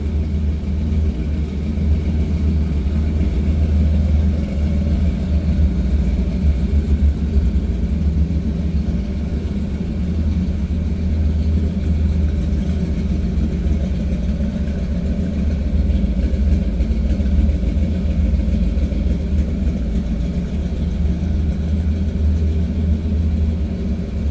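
A 1936 Pontiac Coupe street rod's deep, loud engine rumble idles steadily and continuously, with a throaty low-end burble and no talking.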